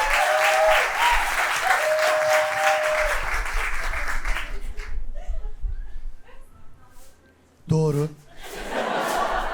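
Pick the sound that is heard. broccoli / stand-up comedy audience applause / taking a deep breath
stand-up comedy audience applause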